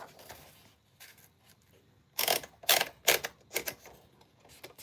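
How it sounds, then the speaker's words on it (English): A 1949 manual typewriter clacks out a quick burst of sharp keystrokes after some quiet, faint handling, the strikes crisp and close in an otherwise silent room. "this is Mildred, my typewriter from 1949"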